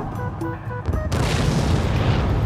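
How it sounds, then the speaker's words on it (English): A bomb going off in the video game Spore, a sudden loud boom that swells into a sustained roaring rumble after a few short electronic game tones. "I'm sending in the mighty bomb."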